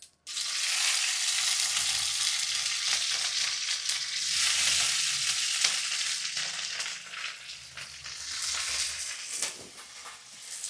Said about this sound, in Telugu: ఇప్పుడు ఓన్లీ కొంచెం ఇదిగోండి పచ్చిమిర్చి వేస్తున్నాను అనమాట